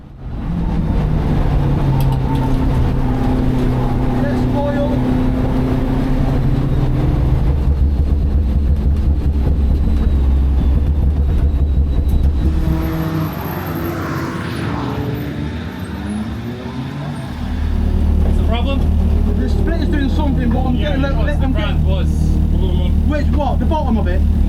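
Turbocharged Honda K20-powered Nissan Micra race car at Brands Hatch during a time attack round, its engine droning loud and close with a dip and recovery, speech heard over it.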